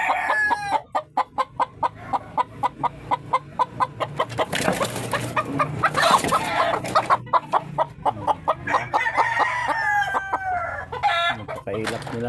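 Oscar, a big, skittish rooster, crows and clucks nearby amid repeated sharp rhythmic clicks and rustling, with some background noise.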